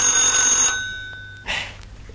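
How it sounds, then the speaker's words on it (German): A telephone rings in a German children's audio play, a bright electronic trill sounding loudly for under a second, then fading, followed by a short rustle. "Oh, Telefon."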